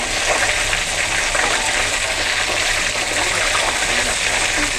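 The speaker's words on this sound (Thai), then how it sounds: "เดี๋ยวเราทอดอีกครั้งหนึ่ง เราก็ยกขึ้นได้เลยค่ะ" Fish frying in shallow oil in a wok: a loud, continuous bright crackle and spitting sizzle, steady and close throughout with no pauses.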